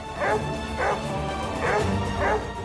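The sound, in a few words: dogs barking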